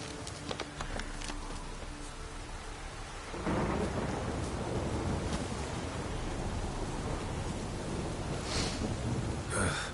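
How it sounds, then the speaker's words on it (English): Rain hisses steadily through a thunderstorm, with low thunder rumbling that swells and grows louder a few seconds in, while heavy rainfall continues without pause and no voices are heard. "Storm, damn it"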